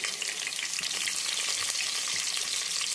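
Green chillies frying with urad dal in hot oil, a bright, steady crackling sizzle with small pops and faint stirring, close and continuous with no speech.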